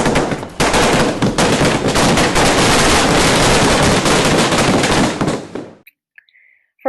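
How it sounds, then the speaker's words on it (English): A Diwali fireworks display sets off a rapid, continuous barrage of loud crackling bangs for several seconds before it abruptly stops. "there are smaller, more intimate fireworks displays"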